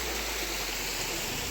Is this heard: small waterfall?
yes